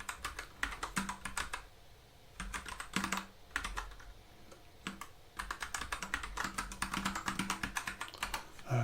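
Someone types code on a computer keyboard, soft close clicks in quick bursts separated by short pauses, with no voices.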